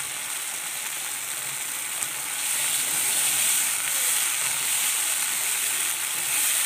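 Ginger and garlic paste sizzling in hot oil in a pan, a steady bright hiss that swells slightly louder midway and holds, close and alone without talk.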